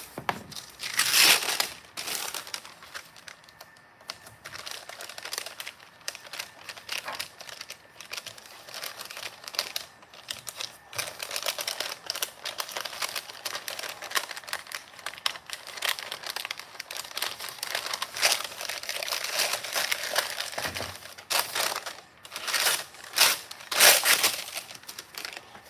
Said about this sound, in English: I'll use this for a little tape machine real quick.